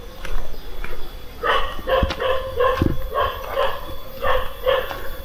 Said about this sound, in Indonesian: Nah udah disambut sama guguk tuh.